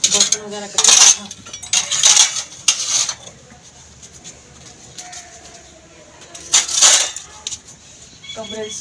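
Dishes and utensils clatter in bursts during washing in a home kitchen, with sharp clinks between quieter stretches and faint birds cooing in the background.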